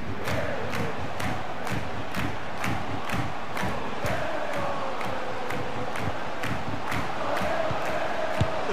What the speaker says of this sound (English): He's got the crowd off their seats with that one